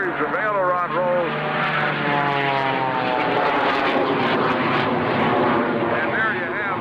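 A propeller-driven aerobatic airplane flown by Jimmy Franklin rolls through a series of aileron rolls at the 2003 Dayton airshow, its engine droning loudly with rising and falling pitch as it passes, while an announcer talks over it throughout.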